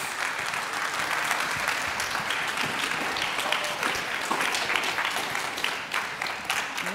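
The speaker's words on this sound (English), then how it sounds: "they deserve a round of applause" A talk audience bursts into sustained applause for a village team, dense overlapping clapping heard close and evenly loud throughout, with no speech on top.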